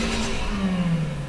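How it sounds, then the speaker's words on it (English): A car engine revving and pulling away ahead on an industrial street in North Sydney, a steady mid-pitched drone with a rising tone, loud and continuous throughout. "You can hear that car flying ahead of me here"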